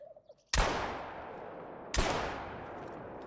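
Two loud rifle shots ring out in a hunting game, theHunter: Call of the Wild, on the Revontuli Coast. Each is a sharp crack with a long rolling echo, about a second and a half apart, with no talk.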